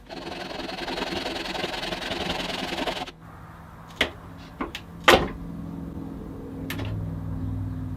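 A power tool cuts around the outside edge of salvaged dumpster wood, a steady loud whine for about three seconds, then quieter knocks, taps and a low hum as it stops.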